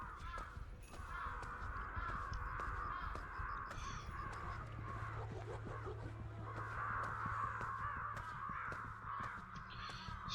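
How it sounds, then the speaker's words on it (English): Crows caw in the video game Ghostwire: Tokyo, repeated harsh calls in bursts at moderate distance over a faint low background hum. "Stupid crows."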